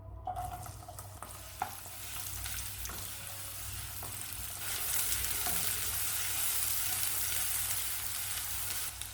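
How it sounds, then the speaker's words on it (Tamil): Sliced onion sautés in a pan, a continuous close sizzle and crackle with occasional stirring scrapes, growing slightly louder partway through. "அதனால் வெறும் வெங்காயத்தை வதக்கிக்கிறேன்"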